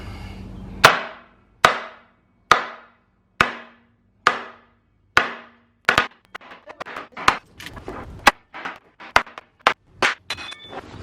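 Sharp hammer blows strike a 1x board held against an ATV axle to drive it out, about a dozen loud, evenly spaced impacts ringing briefly, then quicker lighter knocks toward the end.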